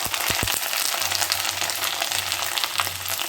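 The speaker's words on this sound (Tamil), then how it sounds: "எண்ணெய் சூடானதும் வத்தல் சேர்த்துக்கலாம்" Sun-dried vathal fries in hot oil with a dense, steady sizzle and crackle that fills the whole moment, loud and close with no talk over it.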